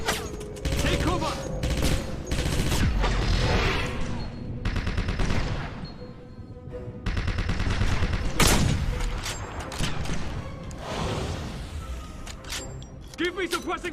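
Sustained bursts of automatic gunfire in Wolfenstein (2009, PC), loud and near, with rapid repeated shots layered over shouted voices and battle noise for the whole stretch.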